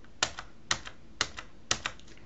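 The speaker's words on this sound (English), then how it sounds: "Simply highlight the date and press plus or minus on your keyboard." Keys on a computer keyboard are pressed in a slow, even rhythm, four crisp, close clicks, each followed by a softer release tap, with quiet between presses.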